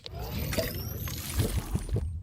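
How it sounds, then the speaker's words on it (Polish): A quick sip of water gives soft liquid gulping and a few swallowing thumps at close range, with no speech. "Szybki łyczek wody."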